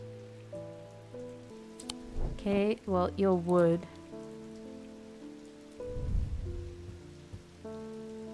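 Steady soft rain falls in a puzzle game, a gentle continuous patter sitting under sustained musical tones, while a voice speaks briefly partway through.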